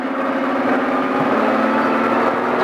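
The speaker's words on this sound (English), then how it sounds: "A little bit of throttle. Let's roll on out." Off-road Baja truck engine held at a steady loud rumble with a little throttle as it rolls slowly away, close and continuous with no talk.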